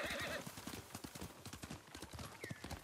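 Horse hooves clip-clop at a steady trot in the Ghost of Tsushima video game, with a neigh early and a brief whinny near the end, all close and fairly loud.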